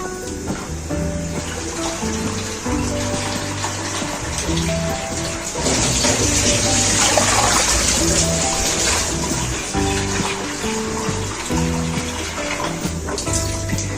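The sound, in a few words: pouring water into a kadhai for boiling rice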